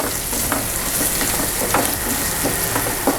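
Ginger garlic paste sizzles steadily in a hot pan for a vegetable curry, with a dense continuous fry and a few soft scraping strokes from stirring, close and loud.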